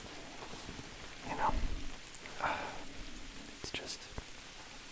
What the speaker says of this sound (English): Hearing the rain